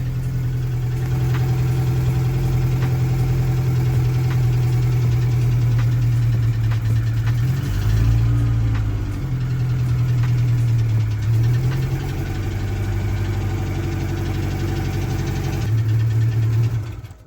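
A Citroen XM engine idles steadily with a puffing blow from a leaking exhaust, a low droning hum that dips and recovers slightly midway, close and loud with no talking.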